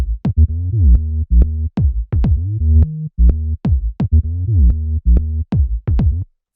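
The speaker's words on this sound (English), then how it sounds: "then we have the bass, which is actually made with 2 layers" Tech house bass line of a synth bass layered with a punchy bass kick pumps in a steady, repeating groove, with short gliding notes and brief gaps between hits, loud and alone.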